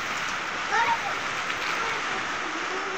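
Heavy rain drums steadily on surfaces around a rural farm in strong wind, a dense continuous hiss close by, with brief faint vocal sounds near the start.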